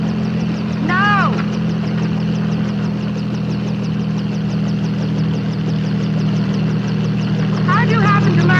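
Helicopter in a 1950s science-fiction film, a steady low rotor and engine drone with a rapid chopping pulse, continuous and fairly close, with speech or calls briefly heard over it.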